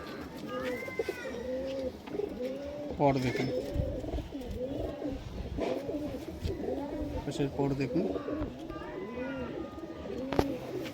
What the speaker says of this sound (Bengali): দাদার খুব পছন্দের পায়রা এটা।